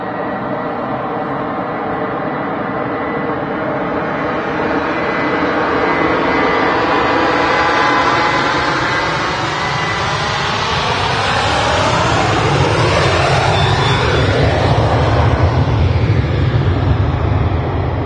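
Ryanair jet departing Manchester Airport for Copenhagen, a loud close engine roar with sweeping whine tones that shift in pitch as it passes and climbs away, heard alone without talk.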